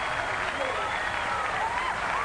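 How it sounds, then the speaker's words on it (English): A 1997 Hilton Head tennis final crowd, Seles vs Hingis, applauds and cheers in a steady dense wash of clapping, filling the space continuously, with a commentator's voice talking over it. "When you hear those cheers, you know, it just gives you that extra energy that you need."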